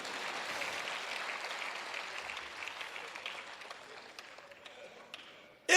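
Applause from an audience at a Hindi comedy poetry show, a dense sustained clapping that holds steady and then slowly thins out, with a sharp loud burst right at the end.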